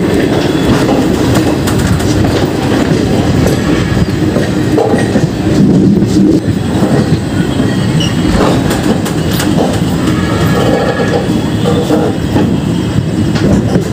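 The Prayagraj Sangam Yognagri Rishikesh Express rolls along the rails near Shahjahanpur, heard from on board as a loud, continuous rumble with rhythmic wheel clatter and occasional squeals.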